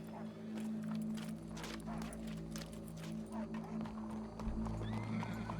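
A horse in Red Dead Redemption 2 neighs and whinnies while its hooves clip-clop nearby, over a low steady game ambience and faint background voices.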